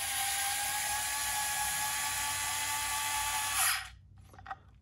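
A Skil 4V cordless screwdriver driving a screw runs with a steady, high motor whine for nearly four seconds, then cuts off into quiet with a faint click.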